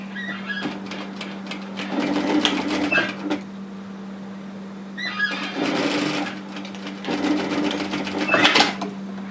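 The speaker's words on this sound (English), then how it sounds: "we're going to stitch just a short way at 1 centimetre, 3/8 of an inch" Sewing machine stitching a short stretch of seam on a varsity-style bomber jacket, with two bursts of steady mechanical whirring and needle clatter separated by pauses, close and moderately loud over a constant low hum.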